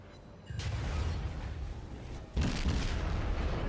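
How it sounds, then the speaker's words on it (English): In the naval battle game World of Warships, torpedoes strike the battleship New Mexico in a burst of heavy explosive booms, two distinct impact surges with rumbling low thuds rolling on beneath a layer of crackling. "another 6 of my torpedoes find home in the New Mexico"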